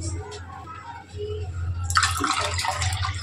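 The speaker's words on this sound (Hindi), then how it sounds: "पानी डाल देती हूँ।" Water is poured from a glass into a pan of milk for milky tea, a steady splashing pour that starts about halfway through and continues loudly after a low kitchen hum.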